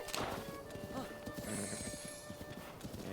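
A horse in Zelda: Breath of the Wild, its hooves clip-clopping in a steady rhythmic gait with a short whinny near the start, moderately loud and close, with faint background tones.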